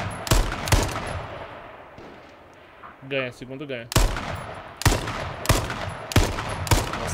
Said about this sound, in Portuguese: Nossa, tá rolando muito tiro.